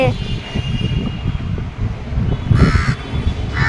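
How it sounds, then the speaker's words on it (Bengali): Crow caws ring out twice toward the end, loud and fairly near, over gusty wind noise and a person talking. "এই কাক, আমার কালুয়াকে দেখেছিস?"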